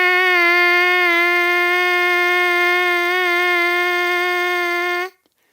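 A single trumpet holds one sustained, bright, steady tone for about five seconds, then cuts off into silence, heard alone and close.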